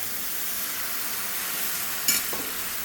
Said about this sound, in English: Then you cook the curry paste. That's why we say it's low fire.